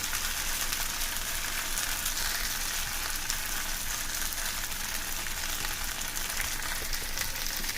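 Vegetable lo mein with green onions being stir-fried, a loud continuous sizzle and hiss with constant tossing and stirring in the pan, steady throughout, no voices.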